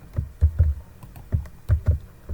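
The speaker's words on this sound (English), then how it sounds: "I'm going to type my mail address" Soft, uneven keystrokes on a computer keyboard tap out an email address, about eight close, muffled clicks in quick irregular bunches with no voices.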